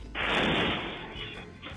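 A grenade explodes in front of a house in Angeles City, Philippines: a single loud, broad blast bursts out and slowly decays into a rumbling wash of noise, heard from some distance.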